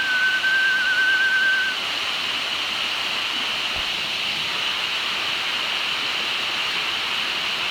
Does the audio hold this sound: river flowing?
yes